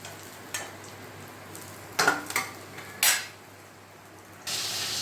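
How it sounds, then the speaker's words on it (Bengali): Quiet, faint frying hiss of rohu fish pieces in a pan, broken by a few clinks and scrapes of utensils. "এইভাবে আমি আর মাছগুলো আর যে কটা আছে সেগুলোকে ভেজে নেব।"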